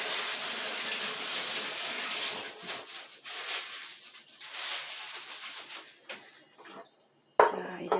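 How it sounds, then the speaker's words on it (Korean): Tap water runs steadily while used gloves are rinsed clean in a kitchen sink during an egg-soup cooking activity, a continuous splashing wash that thins out and stops briefly near the end before a sharp clatter. "장갑은 손 씻듯이 깨끗이 씻어가지고 여기 이물질을 제거한 다음에 비닐 쓰레기로"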